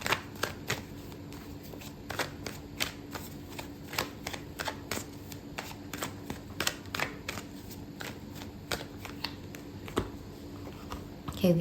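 Tarot cards are shuffled and drawn by hand in a quiet room, a long run of crisp, close riffling snaps and flicks in uneven bursts, with faint speech now and then.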